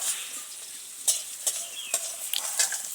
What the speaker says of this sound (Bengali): এবার এই সবজিটা দিয়ে ভাতটা দিয়ে একটু নেড়ে নেবো